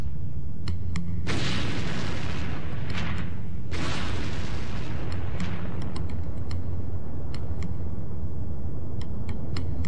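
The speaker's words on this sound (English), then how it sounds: "the pressure reduces and this explodes out of the lava into the atmosphere" Volcanic gas blasts out of lava in a series of deep, rumbling booms, two big bursts leading into a sustained roar, with faint sharp ticks scattered over the rumble.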